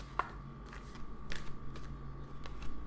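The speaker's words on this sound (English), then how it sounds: "Let me take out some Earth Oracle cards. Okay, this is a struggle to shuffle" Dry riffling and soft slaps of a deck of Earth Oracle cards being shuffled by hand, several quiet bursts close by with no talk.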